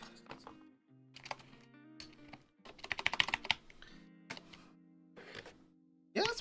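A mechanical keyboard fitted with ABS keycaps clatters under irregular bursts of typing, close and crisp, with pauses between the runs of keystrokes and a voice murmuring at times.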